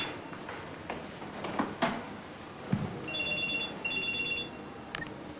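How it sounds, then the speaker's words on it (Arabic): A telephone rings faintly in the background of a room, two short bursts of high electronic trilling set apart, beneath low ambient noise and a few clunks. "أنا تليفوني بيرن،"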